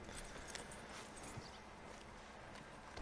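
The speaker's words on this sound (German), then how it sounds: "Wir binden unser Pferd an." Horse hooves clip-clop quietly in Red Dead Redemption 2 as the horse is walked up to a hitching post, a soft steady patter under a constant ambient game background.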